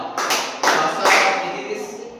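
A class claps in unison, three sharp collective hand claps spaced roughly half a second apart, each one loud and followed by a brief fading ring of room noise.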